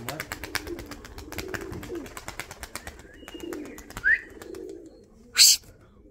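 Pigeons coo softly nearby in low, repeated rolling calls, with scattered clicks and a sharp bright chirp near the end.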